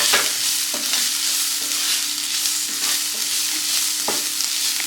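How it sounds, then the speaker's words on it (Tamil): Sliced onions sautéing in a pan as stuffing for egg puffs, a constant close sizzle broken by regular sharp scrapes of a spoon stirring roughly every second, with no voices. "இந்தளவு வெங்காயம் இந்த அளவு வதங்கினா போதும்."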